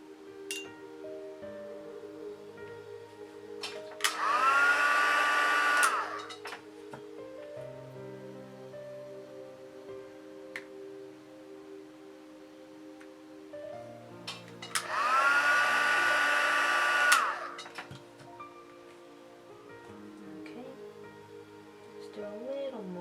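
Hair dryer blowing on paper to heat set creases, two separate bursts of loud whooshing roar a few seconds each, with someone speaking quietly over music in between.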